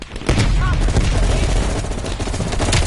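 Sustained, dense gunfire from Call of Duty: Black Ops Cold War, rapid bursts and booms overlapping continuously at loud volume without pause.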